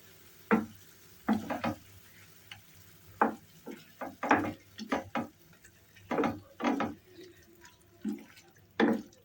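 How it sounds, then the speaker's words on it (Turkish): Cream poured into a mushroom sauté and stirred slowly with a spoon, soft separate scraping and wet sloshing strokes in an irregular rhythm, fairly close and quiet, with no talk. "Şimdi kremayı döküp yavaş yavaş karıştıracağım"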